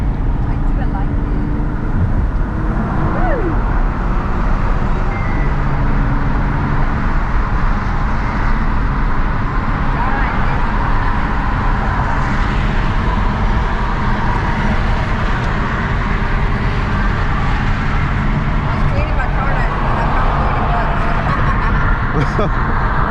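A Hyundai Genesis Coupe 3.8 driving, with a steady loud cabin drone of engine and road noise throughout and people talking over it.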